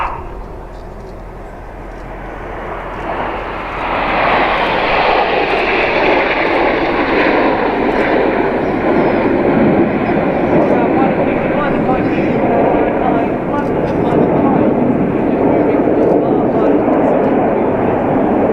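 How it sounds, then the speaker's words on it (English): Eurofighter Typhoon jet flying a loop at an air show, a loud sustained roar that swells and shifts in pitch as it passes, heard at a distance with crowd ambience. "This is the Typhoon Loop."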